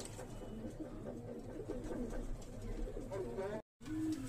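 Pigeons coo in a steady, close, throaty series over background murmur, with a short dropout near the end, at a pigeon-catching setup.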